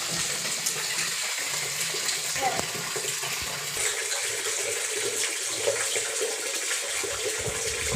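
Water gushes steadily from a tap into a container, a constant broadband rush with no pauses.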